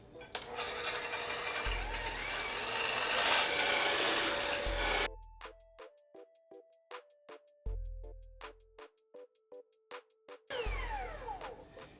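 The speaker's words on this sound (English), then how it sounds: "We want to whisk this on high, and we want to get it nice and fluffy." Electric mixer whisking 2 cups of heavy whipping cream on high: a steady, close motor whir with a scraping beater texture, stopping about halfway, followed by quiet rhythmic clicking before the whirring resumes briefly.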